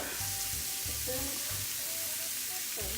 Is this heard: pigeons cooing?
no